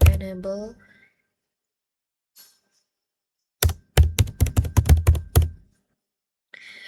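Fast bursts of computer keyboard typing during network device configuration in Packet Tracer: a quick run of crisp key clicks follows a short spoken phrase and a pause of near silence.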